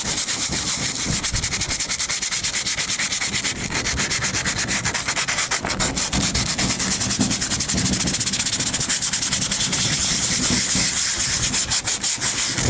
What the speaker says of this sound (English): I'm just going to sand that off as well.